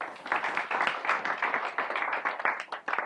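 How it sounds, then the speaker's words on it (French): An audience claps together in sustained applause at a French-language event, steady dense clapping throughout with no voices over it. "je vous demande tout simplement de pouvoir applaudir pour vous-même"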